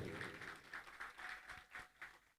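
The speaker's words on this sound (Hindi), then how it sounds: "तालियां बजाओ।" Faint, steady rhythmic clapping from an audience at a religious gathering, the claps falling in quick even bursts at a distance with no voices over them.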